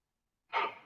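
A single deep breath drawn in through the mouth, soft and close, rising quickly out of silence and tailing off gently, with no talking.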